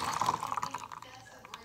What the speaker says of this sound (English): if you're going to reuse the bottle, just pour it back into here.